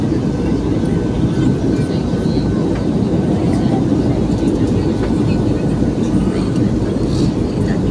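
Steady loud broadband rumble fills an airplane cabin in flight through turbulence, constant roar throughout with no breaks and a few faint knocks.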